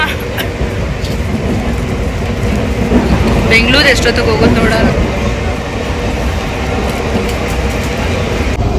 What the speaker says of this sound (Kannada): ನೈನ್ಗೆ ಟ್ರೈನ್ ಬಿಟ್ಟಿದ್ದಾರೆ